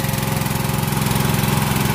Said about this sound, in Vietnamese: giờ mình nhờ đứa em nó bơm nước ra nè